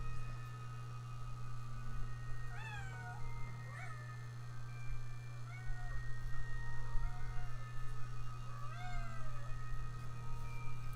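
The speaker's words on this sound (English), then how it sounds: "Is there a reason why you're in here meowing at me?" A cat meows several times, its rising and falling cries standing out clearly over a steady low electrical hum in an indoor room.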